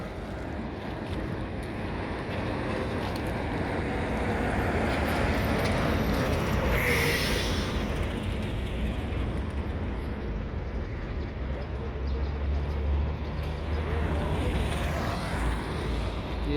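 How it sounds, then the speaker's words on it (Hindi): An Al Saif Daewoo coach bus travels along a road, giving a steady, broad rumble and rush of wind noise that holds at an even level throughout with no speech. "ये अलसैफ कंपनी की गाड़ी डाइवो।"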